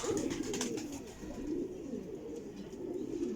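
Flying pigeons cooing continuously up close, a low rolling, throaty coo repeating in steady waves with light background chirps.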